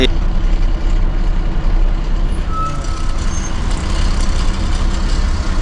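Inside a night bus on the road, heard from a seat beside the driver: a loud, steady engine drone and rumbling road noise fill the cabin without letup, with faint talk underneath.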